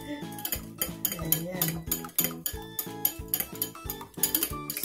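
A utensil clinks rhythmically against a bowl while stirring banana bread batter, giving steady, close scraping and tapping strokes under a brief spoken word.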